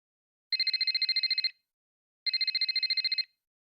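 Telephone ringing late at night in two bright, trilling bursts of about a second each, separated by a short pause, close and clear with no voices.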